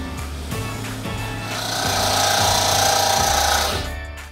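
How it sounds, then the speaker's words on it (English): A power drill bores holes for an aquarium, starting with rhythmic knocking pulses and then building into a sustained close, loud grinding whine before it cuts off, with no talk. "Right down there is where we're going to be drilling the holes."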